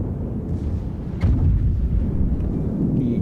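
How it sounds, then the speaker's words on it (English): The Yamato battleship's main guns fire in a naval video game, a heavy deep boom that swells partway through into a long rolling rumble, loud and close, with no talk. "The noise of these guns is great."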